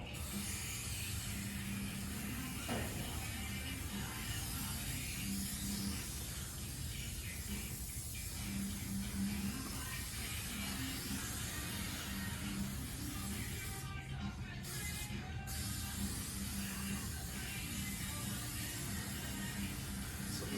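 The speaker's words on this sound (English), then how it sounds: "simply start spraying the wall." A continuous, loud hiss of spray insulation being applied to a metal shop wall runs unbroken throughout, steady and close, with faint mechanical clatter underneath.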